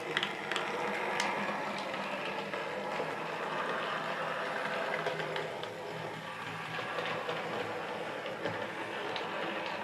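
A model railway pilot engine reversing out of an isolated section, a steady close mechanical whir and rattle of small motor and wheels running continuously on track for several seconds.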